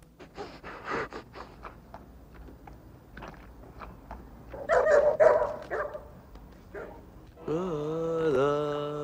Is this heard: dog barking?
yes